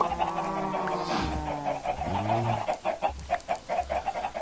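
Minecraft chickens cluck steadily in the modded Feed the Beast Magic World pack, a run of close, repeated in-game clucks over a light background with no talking.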